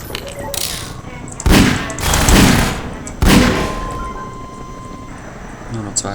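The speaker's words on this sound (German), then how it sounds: "Schüsse" Gunfire in the video game Half-Life 2: three heavy, booming bursts of shots in quick succession, loud and close, with someone talking during the game.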